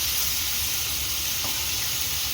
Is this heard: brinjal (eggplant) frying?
yes